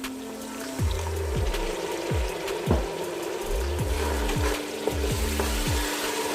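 Ground spices (red chili, black pepper, coriander, turmeric) sizzle and fry loudly in a pan as a little water is added, a steady crackling hiss broken by a string of repeated low thuds and scrapes from stirring.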